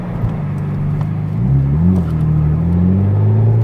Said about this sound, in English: We're about to be overtaken by a Myvi.